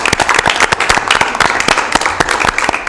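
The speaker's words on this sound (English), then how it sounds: "Round of applause." A round of applause from a small audience at an air district board meeting, dense overlapping hand claps, loud and close, sustained throughout.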